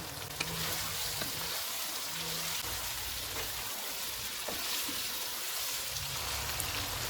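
Green chilies and ginger slices frying in a karahi, a continuous fine crackling sizzle that stays even and moderately quiet for several seconds, with no talk.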